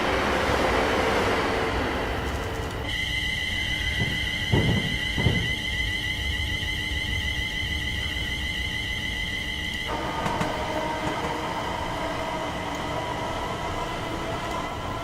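A Class 390 electric train in Train Simulator 2019, heard from the cab on the Milton Keynes to London Euston line: a steady rumbling rail roar, a sustained high whine and tonal hum for several seconds, a couple of clunks, and no talk.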